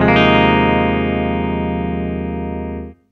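A single clean electric guitar chord on the bridge pickup, played through a Vibrolux amp, rings out sustained, slowly fading before being cut off after about three seconds.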